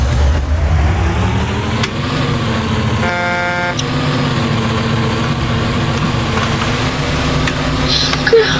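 The homemobile, a house on wheels in the video game Car Crushers 2, gives off a steady synthetic engine drone throughout. A short tonal horn-like blare cuts in midway.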